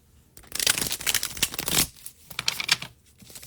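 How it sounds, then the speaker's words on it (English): A deck of tarot cards is shuffled by hand, producing a rapid riffling burst followed by a few shorter clattering bursts, close and clear with no talk. "So I'm gonna shuffle once for y'all."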